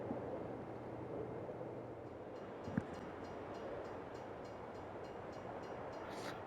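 Train in the video game Farming Simulator 22, a steady low rumble of rolling rail cars with a faint repeating clack, one brief knock midway, no voices.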